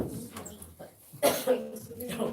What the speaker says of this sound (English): Try not to put the coughs in there